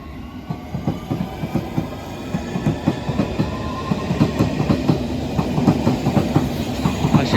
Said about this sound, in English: Departing A, so district line service to Richmond.